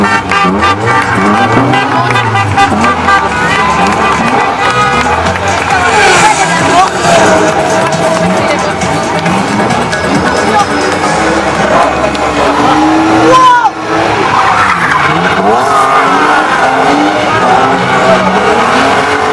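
Monster truck engines rev loudly and steadily as they warm up oil and tyres, a continuous roar with crowd babble and a voice running underneath throughout.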